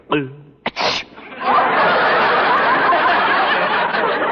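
A pet frog gives a brief nasal squeak, then a sharp sneeze-like burst followed by a long, loud hissing rush of noise.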